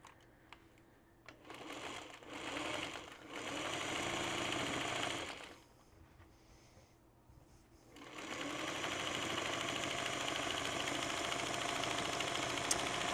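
A sewing machine runs along a fabric edge in two stitching bursts. The motor whirs with a fast mechanical rattle, and a short quiet pause splits the bursts before a longer steady run.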